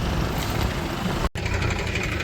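Tractor engine idling on a farm during fertilizer spreading, a loud, steady broadband rumble that runs continuously apart from one brief cut, with no voices.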